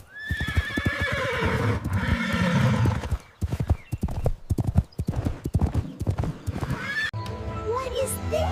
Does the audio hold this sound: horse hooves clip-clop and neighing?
yes